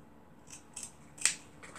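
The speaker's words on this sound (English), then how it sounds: "I'm going to cut part of this right here off" Scissors snipping through material at close range, giving three or four quick, crisp cuts with the sharpest one near the end, quiet overall against a faint background.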